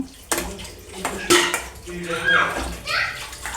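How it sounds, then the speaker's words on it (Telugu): Tomatoes stirred into a soya chunk (meal maker) curry in a pot, with close clinks and scrapes of a metal spoon against the pot and wet sloshing, a voice talking over parts of it. "ఇప్పుడు టమాటా వేసుకుంటున్నాను అంతా కలుపుకోవాలి"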